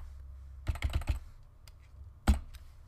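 Keys tapped on a computer keyboard while a password is entered, a quick cluster of several clicks followed after a pause by a single louder keystroke, close and alone over a low hum.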